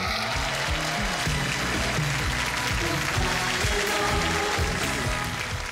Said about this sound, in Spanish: Recibamos con este fuerte y cariñoso aplauso a Sofía Loren.